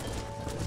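A horse in the video game Red Dead Redemption, brief clip-clop of hooves blended into a continuous, dense game background of low rumble and noise, fairly loud and without clear speech.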